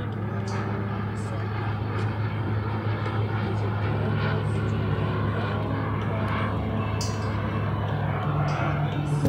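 Steady, continuous jet engine roar from a model Avro Vulcan bomber flying overhead at scale speed, droning evenly throughout with faint background noise.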